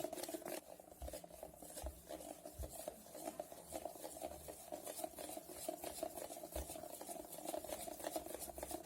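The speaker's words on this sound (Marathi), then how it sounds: "हाताने किंवा मग चमच्याने असं एका दिशेने फेटायचं, म्हणजे चांगलं फेटून घ्यायचं." Idli batter being beaten by hand or with a spoon in one direction, giving a steady continuous wet churning and rubbing sound with a few soft thumps, close and quiet.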